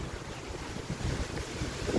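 Strong outdoor wind buffeting the microphone in a harbour setting, a continuous low rumbling roar with gusty swells, loud throughout with no talking.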